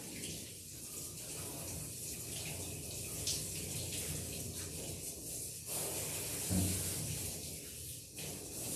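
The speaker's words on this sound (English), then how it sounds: "rinse off one side of her head, go over the other ear, get the other side of her head" Running water rinses a mini sheepadoodle's head during a grooming bath, a steady close spray of tap water with shifting splashes as it moves over the ears.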